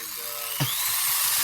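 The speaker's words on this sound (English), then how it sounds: "Well, I always like hearing a nice dentist drill." A dentist's drill whines as a high-pitched sound effect, rising sharply and holding steady for about a second over a hissy background.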